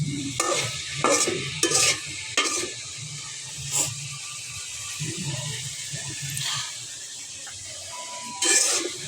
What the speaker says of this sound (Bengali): পেঁয়াজগুলো যখন পুরো একদম ভাজা ভাজা করবো না হালকা ভাজা দেব